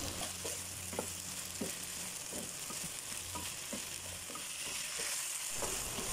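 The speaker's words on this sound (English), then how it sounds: "she'll continue to cook these ingredients together on medium to high heat" Potato and green beans cook over medium-high heat for a vegan Malaysian curry mee. They give a steady, close sizzle of frying with faint scrapes of stirring now and then.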